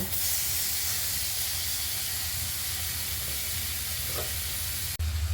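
Onion and tomato fry in oil with a steady, dense sizzling hiss that continues almost unbroken, ending with a brief break and a shift in tone near the end; no voices.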